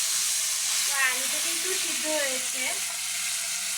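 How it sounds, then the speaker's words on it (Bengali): Boiled potatoes and homegrown okra fry in oil with a steady broadband sizzle that runs throughout, while someone talks over it close by. "এই যে এখানে অনেক তেল বের হচ্ছে, এই তেলটার মধ্যেই ভেজে নেব।"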